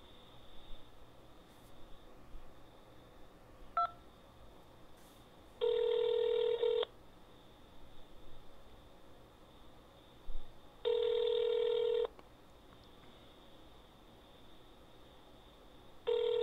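Two bursts of telephone keypad tones sound during an automated phone menu, each a steady beep lasting about a second, with quiet line hiss in between.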